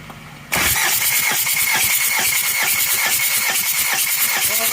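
Daihatsu Rocky diesel engine cranking on the starter during a compression test, a loud steady rhythmic chugging that begins abruptly after a short quiet moment and continues close and unbroken.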